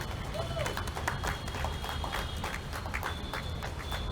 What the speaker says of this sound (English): Can we have the applause louder?